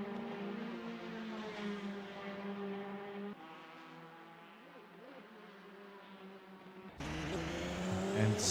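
Porsche prototype race cars in a racing video game at Silverstone, their engines droning in layered high-pitched whines that shift in pitch, with a louder engine and a brief tire squeal cutting in near the end.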